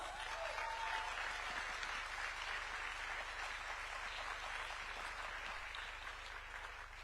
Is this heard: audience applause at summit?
yes